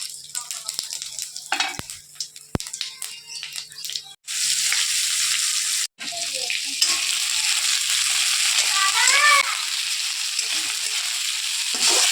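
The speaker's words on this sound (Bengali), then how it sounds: "এবার তেলের মধ্যে আলু ছাড়া হবে" Potatoes dropped into hot oil while a mutton curry is being made, giving a loud, steady sizzle that surges after a few seconds of clatter and stirring, then crackles on continuously up close.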